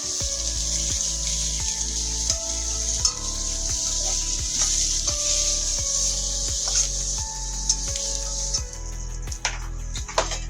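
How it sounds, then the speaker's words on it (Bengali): Eggplant frying in oil in a pan, a steady broadband sizzle that runs throughout, loud and close, with a rhythmic pattern of faint stirring or scraping over a background of regular tones. "বেগুনটাকে হালকা একটু ভাজা করে নেব, মিনিমাম 5 মিনিটের মতন।"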